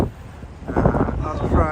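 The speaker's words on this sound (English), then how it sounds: "But it's quite windy today, so I'm a little bit concerned." Gusty wind buffets the microphone, a low roaring rumble that swells and thickens partway through. It is heard on a windy morning walk near the river in Futako-Tamagawa, Tokyo.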